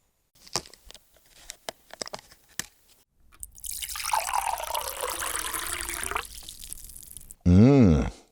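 Motor oil, a strong 5W-20 SP blend with PAO, glugging and trickling as it is poured at a dacha, preceded by scattered drips and clinks, then a steady pour lasting a few seconds before a short rising tone.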